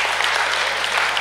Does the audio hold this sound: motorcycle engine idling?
no